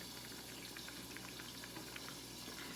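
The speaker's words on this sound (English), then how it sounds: "The pasta's cooking up nice." Pasta boiling in a pot on the stove, a steady dense bubbling wash with small pops scattered through it, close and even from start to finish, with no voices.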